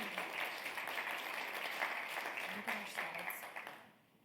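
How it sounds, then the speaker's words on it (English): Audience applause at a medical conference session on integrative medicine and ocular melanoma: sustained clapping from a seated crowd for about four seconds, fading out at the end. "So please give them a round of applause."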